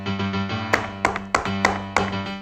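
Knocking on a wooden door sounds as a storybook effect, about six sharp knocks in an uneven rhythm over a low sustained musical tone.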